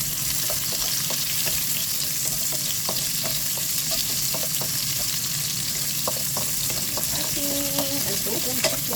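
Garlic, ginger and onion frying in oil for chicken adobo, a loud steady sizzle throughout with scattered taps of a utensil stirring the pan, no talk.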